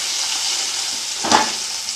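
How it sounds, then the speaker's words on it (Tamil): Pirandai (adamant creeper) sautéing in a pan for thuvaiyal gives a steady, loud, close hiss of hot oil, with one brief clink of a utensil near the end. "நல்லா கிள்ளி இதிலே வதக்கிடணும்."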